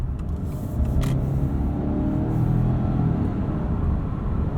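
A 2020 Subaru Legacy Touring XT drives onto a highway. Steady, loud low engine and road rumble is heard from inside the cabin, rising slightly as it accelerates, with no talking.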